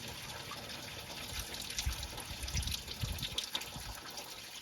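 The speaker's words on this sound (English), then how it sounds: "See how much water comes out of this thing" Water pours and trickles out of the upper case of a Lima 34 Paymaster, a quiet, continuous splashing flow with small gurgling bursts, close by and without speech.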